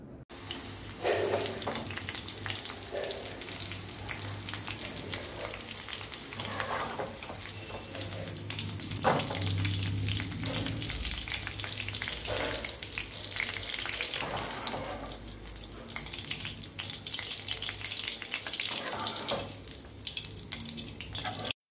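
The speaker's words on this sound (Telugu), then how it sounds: "ముందుగా అయితే నేను సన్నగా తరిగిన ఆనియన్స్ అయితే ఫ్రై చేసుకుంటున్నాను" Thinly sliced onions frying in a pan for chicken rolls, a steady dense sizzle that runs throughout with occasional stirring scrapes and a watery, running-tap texture, no speech.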